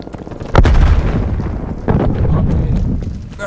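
Two heavy, booming bomb explosions in Call of Duty: Black Ops Cold War, roughly a second and a half apart, each a loud low-frequency burst that rumbles on briefly, with dense game background noise throughout.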